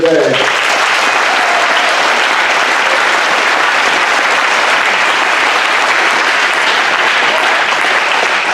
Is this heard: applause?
yes